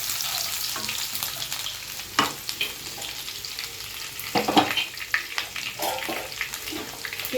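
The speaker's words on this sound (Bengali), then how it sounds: "এই তেলে আমি দিয়ে দিয়েছি 2টো শুকনো লঙ্কা, আদা কুচি," Dry red chillies, chopped ginger and garlic frying in hot oil for chilli chicken, a steady close sizzle with occasional clinks and scrapes of stirring.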